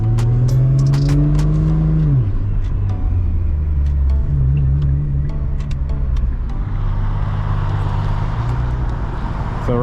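Nissan GT-R R35 with a 4.1L engine, driven on local roads, fills the recording with a loud, continuous close-up drone and rumble that rises and falls in pitch through gear changes, with road noise and occasional clicks.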